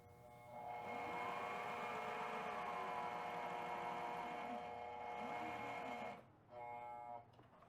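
A sewing machine runs steadily, stitching a straight edge on armrest fabric for a Toyota Avalon door armrest repair, with an even whir for about five seconds, a brief stop, then a short second run.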